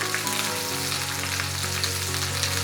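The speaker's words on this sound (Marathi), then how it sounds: "चांगली तेलामध्ये फ्राय करून घेऊ." Okra frying in hot oil for dahi bhindi gives a loud, continuous, close sizzle that holds steady throughout, with no voices.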